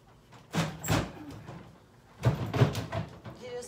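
Painted wooden drawers, sealed shut by fresh paint, are forced open in two rough bursts of sliding, scraping wood knocks, with a voice speaking alongside.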